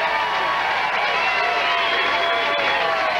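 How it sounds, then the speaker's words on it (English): A bowling center crowd cheering and shouting at a professional tournament, a dense continuous roar of voices at high volume with no pauses. "Boy, the crowd getting behind him."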